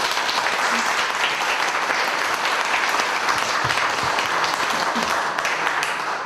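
Sustained applause from a seated audience at a Korean book concert, broad and steady, with many hands clapping together throughout.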